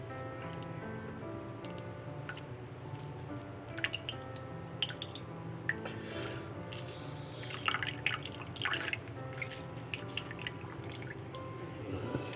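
Juice from an orange being squeezed by hand for a salad dressing, a close run of small wet drips and squishy squeezes falling at an irregular rhythm over a low steady background hum.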